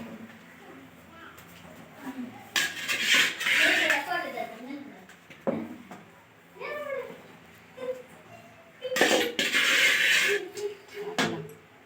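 Fish pieces go into a pot of Telugu fish curry (chapala pulusu), making two bursts of clattering metal pot and utensil noise. Someone talks between and over them.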